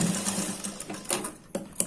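A sewing machine stitches a straight seam on a collar blouse, its quick mechanical chatter running in short bursts with brief pauses, close and fairly quiet.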